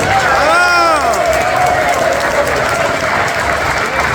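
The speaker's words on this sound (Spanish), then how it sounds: "Recibámoslo con un fuerte aplauso." An assembly audience claps steadily in a hall, a dense continuous wash of applause with a voice briefly rising over it near the start.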